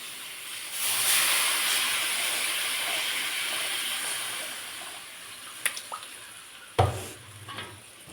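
Dissolved tamarind water poured into a hot cooking pan sets off a loud, sustained hissing sizzle that slowly fades, followed by a few sharp clinks of a utensil near the end.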